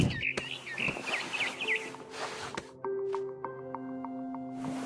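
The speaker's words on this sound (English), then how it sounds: "Then I heard chirping outside my window. It was a barn swallow going back to her nest." A barn swallow chirping in the game What Remains of Edith Finch: quick, high, repeated twittering calls over the first two seconds, set against sustained musical tones and a soft ambient background.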